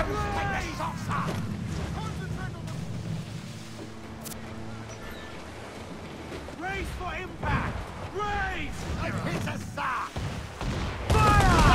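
Cannon fire booms through a naval battle in Assassin's Creed: Black Flag, with repeated heavy bursts over churning sea and ship noise while voices shout throughout.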